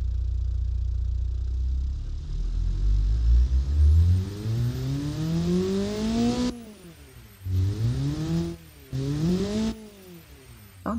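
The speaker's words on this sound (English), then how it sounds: "Sounds a bit like a turbo engine." A car engine in the Automation game revs up with a turbo-like whine, climbing steadily in pitch, then cutting off abruptly and blipping twice more in short, sharp rises and falls, loud and alone.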